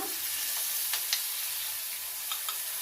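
Tamarind paste with dried chillies for Navaratri pulihora simmers in a pan, giving a quiet, steady sizzle with a few faint ticks of a stirring spoon.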